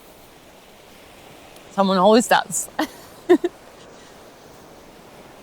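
Ocean waves on a New Zealand beach in winter, a faint, steady wash of surf in the background, with a voice speaking briefly over it partway through.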